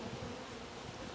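Honeybees buzzing around a new queen in a hive, a faint, continuous low hum of many wings with no distinct pauses.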